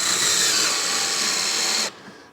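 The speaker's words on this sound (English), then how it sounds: "I'm going to take the drill driver and attach it with the other screws." A drill driver running screws into a wall-mounted electric car charger mount, one continuous whirring burst of about two seconds that stops abruptly, close and fairly loud.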